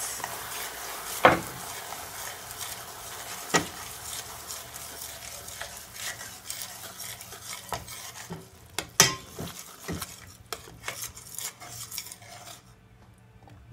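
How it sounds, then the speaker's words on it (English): Homemade caramel sauce with heavy cream stirred in a pan, a spoon scraping and clinking against the metal in irregular sharp taps over a faint bubbling sizzle, close and fairly quiet. "And you're just gonna mix it so everything will all combine."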